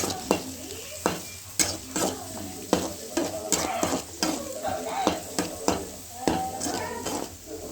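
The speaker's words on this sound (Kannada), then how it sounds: "ಫ್ರೈ ಮಾಡ್ತಾಯಿದ್ದೀನಿ 2 ಈರುಳ್ಳಿ ಹಾಕ್ಕೊಂಡು" Onions with mustard seeds and cumin frying in hot oil, a steady sizzle broken by repeated sharp clanks and scrapes of a spoon stirring against the pan, close up with no talk.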